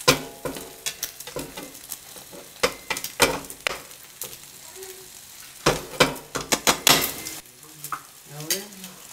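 Eggs frying with potatoes and fava beans in a pan, a soft sizzle broken by repeated scraping and clinking stirs of a utensil against the pan, close by and irregular.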